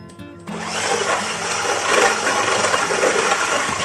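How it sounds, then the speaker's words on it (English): An electric mixer whirs steadily through chocolate chip cookie dough, switching on abruptly after a brief pause and holding a loud, continuous motor drone mixed with the churning of the batter. "And now we mix again with this electric mixer."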